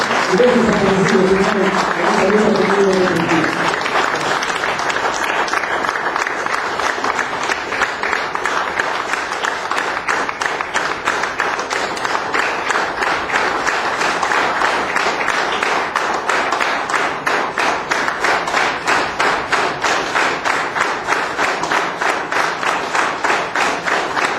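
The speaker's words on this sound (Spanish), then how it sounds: "un minuto de aplausos" Sustained applause from a union assembly audience at a memorial tribute, dense steady clapping for over twenty seconds, with a brief voice at the very start.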